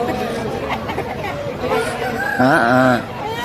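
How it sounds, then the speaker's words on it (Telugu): A native country rooster crows close by at a busy village poultry market, one drawn-out call rising over steady crowd chatter and other fowl noise. "ఎటు చూసిన పుంజులే ఎటు చూసిన పుంజులే"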